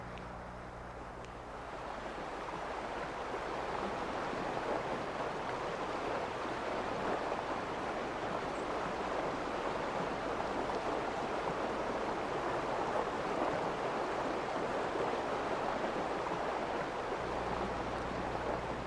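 Fast river water rushing over broken, riffled stretches where fish hold close, a loud, continuous roaring wash that swells in after a quieter opening and stays steady throughout, with no voices.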